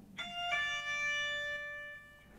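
A bright plucked guitar note on a high string, then a quick second note slurred from it that rings out and slowly fades.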